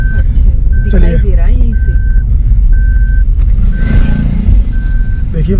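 A vehicle reversing into a parking spot in a Rajasthan village, its backup alarm beeping in an even repeating rhythm over a low engine rumble, with people talking nearby.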